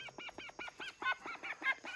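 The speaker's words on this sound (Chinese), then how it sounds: "这该死的小鸭子。" A young farmyard duckling gives a rapid run of about nine short, nasal calls in two seconds. The calls are faint and close by, with nothing else heard.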